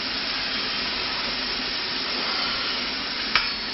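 Onions sweating gently in a pan give a steady, even sizzle with no talking, and a single brief click or tap comes near the end.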